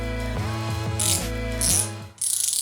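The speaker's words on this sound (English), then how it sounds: "The ratcheting mechanism is nice. It's smooth." EZ Red flex head ratcheting wrench clicking through its ratchet mechanism, a close, steady run of fine pawl clicks with a few louder, sharper bursts, with no talking.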